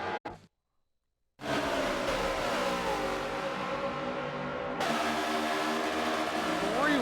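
After a moment of silence, a pack of race cars at the Homestead-Miami championship 250 roars off at the green flag start. The loud, sustained engine drone shifts in pitch as the cars accelerate, with a voice talking over it.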